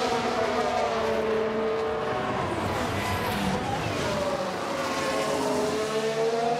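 F1 cars in F1 Manager 2022 rush past during an overtake, a dense roar of engines with pitch sweeping up and down as they pass, loud and continuous.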